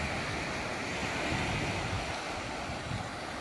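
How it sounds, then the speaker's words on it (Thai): Sea waves and steady sea wind at Bang Boet Beach in Thailand, a continuous broadband wash of surf with wind buffeting the microphone, loud and unbroken throughout with no voices. "ดูคลื่น ลมทะเลนะครับสวยมาก"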